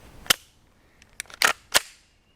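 Several sharp gunshots from a CZ Scorpion Evo 3 with a 7.72-inch barrel firing Tula 115-grain 9mm steel-case ammunition outdoors, one isolated crack followed by a quick cluster of three, each with a short ringing tail.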